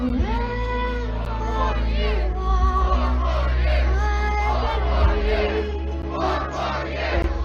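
A large crowd at an outdoor Trump rally in Kenosha, Wisconsin chants together, with loud rising and falling voices carrying over a steady low rumble throughout.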